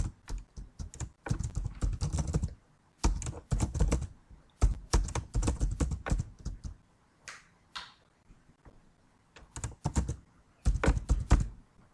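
Names being typed on a computer keyboard while entering data into an Excel spreadsheet: close, brisk bursts of key clicks separated by short pauses, with no talk.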